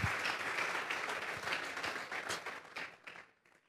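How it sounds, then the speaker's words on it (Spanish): A church congregation applauds in a steady wash of clapping that carries on, then thins out and fades toward the end. "Un aplauso al Señor, gloria a Dios."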